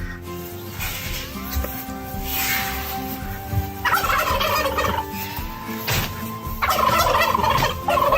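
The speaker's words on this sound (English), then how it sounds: "All right, chickens." Backyard chickens waiting to be fed, giving loud, close squawking and clucking calls in repeated bursts that grow busier toward the end, with no talking over them.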